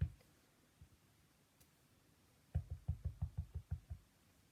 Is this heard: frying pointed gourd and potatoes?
no